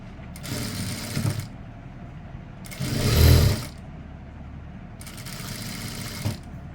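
A sewing machine stitches chudithar lining in three bursts of whirring, with a pause between each run and the middle burst loudest and longest.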